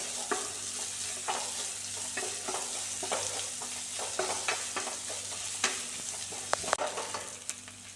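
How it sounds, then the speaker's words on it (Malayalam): Sliced onions sautéing in a pan with oil, a close, continuous sizzle broken by repeated scraping and stirring clicks of a spoon, steady and alone with no voices. "സവാള വഴറ്റിയെടുക്കണമെങ്കിൽ അതൊന്ന് നന്നായി വഴണ്ട് വരട്ടെ"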